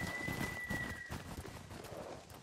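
Horses in the video game Ghost of Tsushima move along in a soft, rhythmic clip-clop of hooves, faint and mid-distance, with a brief tonal game sound early on.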